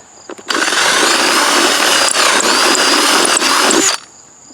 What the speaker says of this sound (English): Now I'm just going to run that drill through it